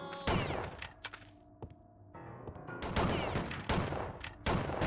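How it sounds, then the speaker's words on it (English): Shotgun fire in Outlaws Remastered, several loud, sharp blasts in close succession with ringing tails, then a brief lull before another burst of heavy shots, close and punchy. "Oh, shotgun to the face."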